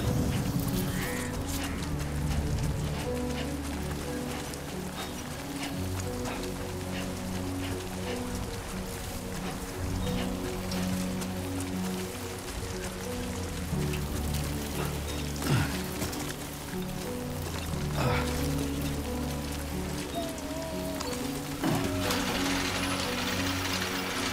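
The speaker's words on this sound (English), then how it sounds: "Great. Rain." Steady rainfall from the video game Death Stranding 2: On the Beach, a continuous hiss of drops on surfaces under a low rumbling music-like drone, with occasional louder patters and no speech.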